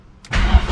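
A car engine being cranked and catching, a brief starter whirr followed by a loud, steady engine rumble close by, during an air ride suspension fitting.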